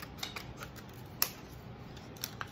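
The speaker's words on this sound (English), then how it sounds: "So I'm just gonna cut the extra off" Scissors trimming excess material from cut-out pieces for a rolling tray craft, a few quiet snips and one sharper close cut over a low, steady room background.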